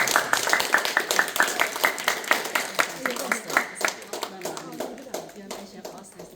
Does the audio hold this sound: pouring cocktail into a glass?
no